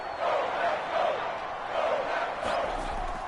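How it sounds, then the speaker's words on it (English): A stadium crowd in the Madden 22 football video game, at a Cleveland Browns versus Green Bay Packers game, gives a continuous roaring cheer that rises and falls in waves, loud and steady throughout. "the crowd getting into it as we come up on a big 3rd down"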